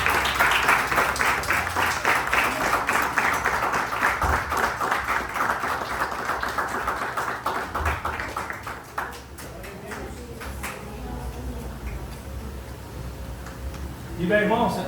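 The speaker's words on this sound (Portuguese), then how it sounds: "Você coloca de pé, aplauda Jesus nessa manhã" A church congregation applauds at a morning service, a dense wash of clapping with raised voices over it that thins out toward the end before a short louder burst.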